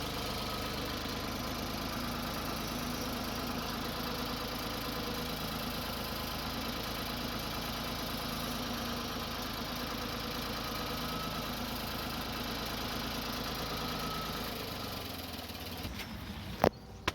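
A Ford 3600 tractor engine idles with a steady, low mechanical drone and slight knock that holds evenly throughout, then is interrupted by a couple of sharp clunks at the very end.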